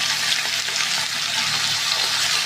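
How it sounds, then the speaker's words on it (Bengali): A potato, pumpkin and tomato curry with spices fries in a pan, giving a steady, loud, dense sizzle that runs unbroken throughout, with no voices. "সবটা মিলিয়ে ভালো করে ভেজে নেবো।"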